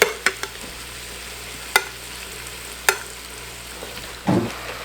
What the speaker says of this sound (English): I'm going to add the rest of the beef in, as well as all of the juices.